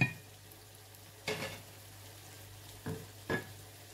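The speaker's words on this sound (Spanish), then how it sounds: "y seguimos sofriendo esto" Sofrito for pollo al chilindrón sautéing in a pan, a faint low sizzle with three short bursts of stirring or scraping against the pan, no talking.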